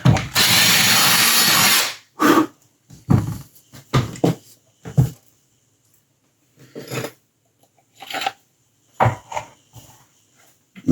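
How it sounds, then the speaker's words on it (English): A drill bores a hole through thin model kit material with one sustained whine lasting about two seconds. Several short, sharp bursts follow, separated by gaps, close and loud. "gonna drill a hole here."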